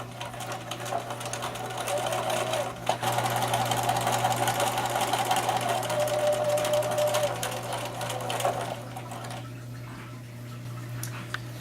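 A sewing machine stitches the back seam of an 18-inch doll skirt with a 1/4 inch seam allowance, a steady close whirring hum that runs for several seconds before slowing and stopping.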